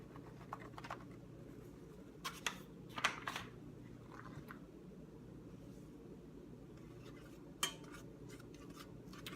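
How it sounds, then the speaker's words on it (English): A utensil stirring a butter and flour roux in a pot, faint intermittent scraping and clinks against the pot over a quiet hum, close by with no talking. "we're just going to stir it around until we start smelling it"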